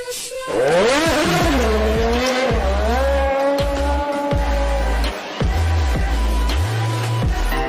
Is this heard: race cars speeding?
yes